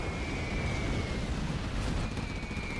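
Carpet bomb explosions from C&C Generals Zero Hour during a 1v1 tournament match: a continuous, dense rumble of blasts with no pauses and a faint steady tone riding above it.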